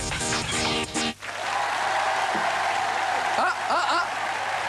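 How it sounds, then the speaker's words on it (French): Crowd applause during a French television broadcast, a dense, sustained wash of clapping that begins abruptly after a second of music, with faint voices rising over it near the end. "Applaudissements."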